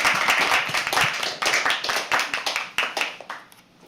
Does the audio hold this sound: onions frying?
no